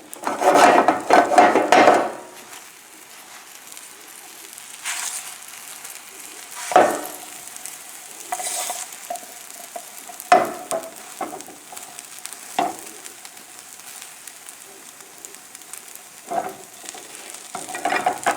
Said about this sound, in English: Then we're going to fold this over and then cook it slowly